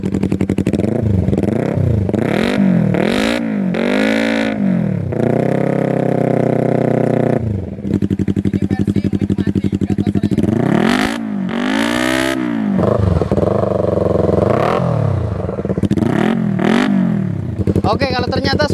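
A Yamaha Vixion motorcycle fitted with a two-cylinder conversion and twin aftermarket exhausts, revved repeatedly in loud, close throttle blips with rising and falling engine pitch and a few steady held revs in between.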